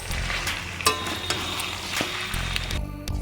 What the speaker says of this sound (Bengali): এই আলুগুলো আবার দিয়ে দিলাম ওই কষানের উপরে দিয়ে একটু নাড়িয়ে চাড়িয়ে নেবো